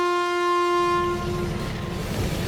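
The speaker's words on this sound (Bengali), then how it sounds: "তো ট্রেন চলে এসছে" A train arrives with a loud sustained horn blast that fades after about a second, followed by rumbling wheels and carriage noise as it pulls in, with no talk.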